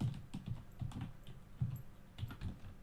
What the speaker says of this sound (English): You might hear me typing, I'm typing the word Super League